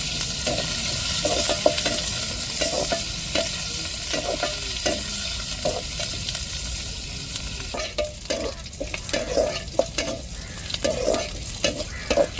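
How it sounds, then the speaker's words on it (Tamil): Fish frying in a masala tempering sizzles steadily up close, with repeated scraping stirs of a utensil in the pan, no voices. "இப்போ தாளிப்பில் வந்து நம்ம மசாலா போட்டு விரைவி வச்சுருக்கிற அப்படியே சேர்த்துருவோம் மீன்."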